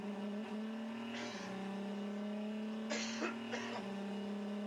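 Onboard sound from the number 1 hybrid Le Mans prototype race car in 2012, a steady high engine drone that shifts pitch in steps as the car changes gear, with brief bursts of noise between, no talk.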